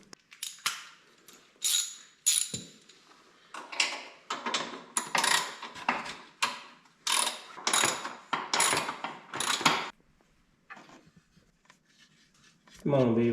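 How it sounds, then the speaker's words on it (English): A ratchet threading a bolt on a 2021 Can-Am Renegade XMR ATV during a radiator relocation, with repeated close rasping strokes in a steady run that stops, then a voice speaks at the end. "I asked nicely, and the bolt started going in nicely."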